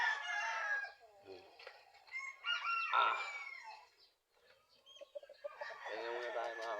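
A gamecock crows close by several times, the long strained calls broken by short clucks and a quieter pause in the middle.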